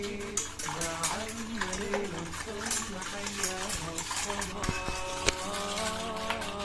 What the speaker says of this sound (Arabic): صافي غنضرب هذا الدقيق